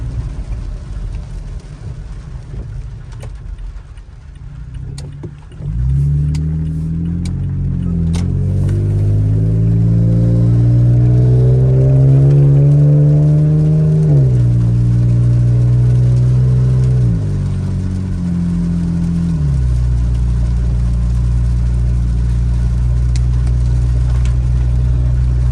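A 2018 Toyota Tacoma fitted with a FlowFX cat-back exhaust drives and accelerates with a loud, steady droning rumble that rises in pitch, dips and settles into a constant low hum, heard alone without talk.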